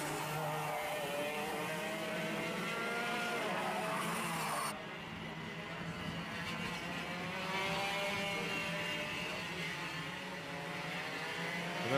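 Racing cars circuiting Llandow during a 2019 DRS100 qualifying session, engines droning continuously at mid distance with rising and falling pitch as cars sweep through corners, the tone dipping briefly midway.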